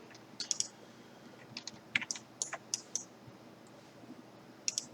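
A computer mouse clicks repeatedly while working in animation software, about a dozen faint, sharp clicks in irregular small clusters against a quiet room.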